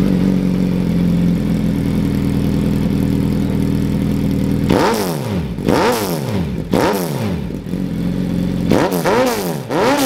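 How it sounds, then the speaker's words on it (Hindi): Suzuki Hayabusa with a side exhaust and carbon fiber bodywork idling loudly up close, then revved in several sharp throttle blips that rise and fall in pitch. "रेहान भैया स्टार्ट कर रहे हैं। चलो आपको आवाज़ सुनाता हूँ पहले।"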